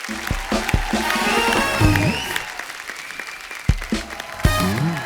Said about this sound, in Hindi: एक बार रानी और सैफ अली खान के लिए जोरदार तालियां।